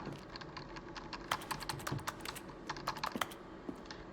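Keyboard typing fills an office ambience in The Stanley Parable Ultra Deluxe, with brisk, irregular clusters of sharp key clicks over a low room hum, steady and fairly close throughout.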